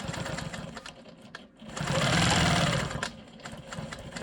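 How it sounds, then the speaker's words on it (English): A Quilt Maker Pro 20 longarm quilting machine stitches straight ruler-guided lines across a quilt block, its motor whirring steadily with a louder, fuller run in the middle and rapid needle clatter throughout. "I'm gonna go ahead and come in here and quilt these straight lines."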